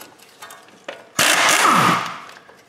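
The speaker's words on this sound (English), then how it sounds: "Get a little wrench." A wrench works a bolt loose on the front suspension of a Hyundai Santa Fe with a broken front coil spring, giving a loud, close mechanical grind and clatter that lasts about a second after a few faint taps.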